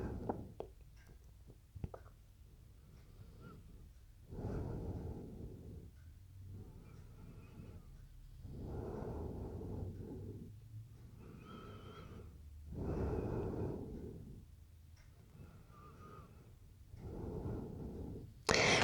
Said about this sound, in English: Inhale deeply, exhale fully.